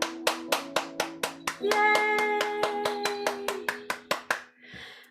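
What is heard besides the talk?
group clapping hands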